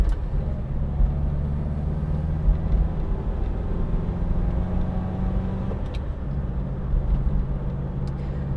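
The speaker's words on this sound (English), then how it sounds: "Little rev match down into second, just to make it a little bit easier on the engine and gearbox." A Riley 4/Seventy-Two classic British saloon drives along with a steady engine rumble, briefly rising and settling as it is rev-matched down into second gear.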